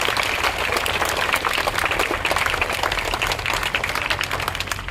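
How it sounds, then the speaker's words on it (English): A school auditorium crowd claps for the class 8th Diwali assembly and its faculty. The applause is dense, steady and fairly loud, holding without a break for the whole stretch. "clap for the class 8th and the faculty members"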